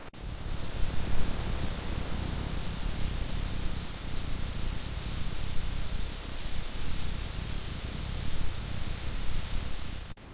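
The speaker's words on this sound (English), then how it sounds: "Team, let's get this wall covered. Watch your overspray." A paint sprayer coats a wall in a ship renovation, giving a steady loud hiss of spray that runs continuously for about ten seconds, rising and falling slightly with no talk.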